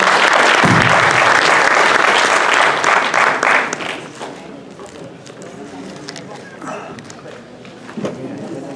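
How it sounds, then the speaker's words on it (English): Audience members at a 21st Century Schools panel session applaud the panelists in a loud burst of clapping that fades after about four seconds, followed by quieter room sound and someone speaking. "So, a big round of applause for our panelists."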